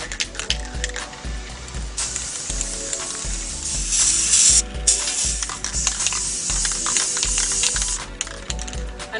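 Plastikote Metal Protect black spray paint hisses from an aerosol can onto a table in several sustained bursts, close and crisp, with short gaps and the occasional rattle between sprays.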